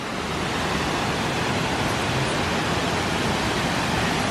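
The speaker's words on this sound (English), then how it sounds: "we've come to some waterfall. Can you hear that?" A waterfall along a hiking trail near Lake Louise in the Canadian Rockies roars as steady, dense broadband rushing water, loud and continuous with no voices.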